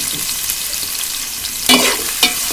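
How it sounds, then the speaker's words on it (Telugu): Onions go into hot oil in a pan for a tamarind fish curry, with a loud constant sizzle and frying hiss, then two short bursts of stirring scrapes near the end. "ఉల్లిపాయలు వేసేస్తున్నాను"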